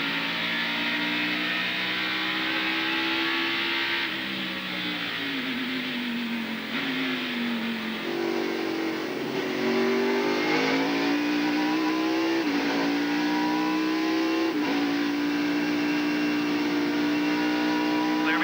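Onboard a NASCAR race car at speed during a 2001 race lap, the engine drones loud and close, its pitch rising and dipping as it accelerates and lifts through the corners.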